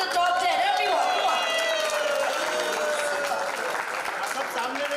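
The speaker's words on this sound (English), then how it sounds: "Can we have a huge round of applause" A crowd breaks into sustained, loud applause that holds steady for several seconds, with some cheering mixed in, at a phone launch event.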